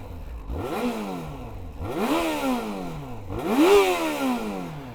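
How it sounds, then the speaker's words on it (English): A 2006 Yamaha FZ-6S on its stock exhaust, warmed up, revs three times in a row. Each pull sweeps sharply up in pitch and then falls away, with the last rev reaching highest and loudest, and no voices. "let's have a little listen to the soundtrack of this bike"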